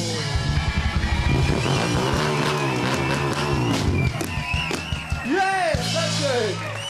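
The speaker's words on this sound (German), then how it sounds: "Jemals ein Motorrad Musik machen sehen?" A moped motorcycle revs in short bursts and rising whines at a stunt music show played with a live band. The engine sits loud and close among the music, with some voices.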